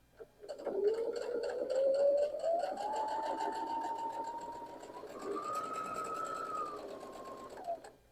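Domestic sewing machine running a long continuous seam on a quilt block, its motor whine rising steadily in pitch and holding for several seconds with a fast stitching rattle, close and fairly loud, no talking.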